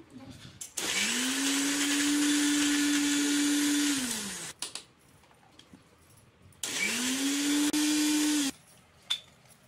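Kitchen mixer grinder blends a thick, waterless paste of garlic, chili, ginger and coriander for an eggplant bharit, whirring loudly in two bursts of a few seconds each with quiet pauses between.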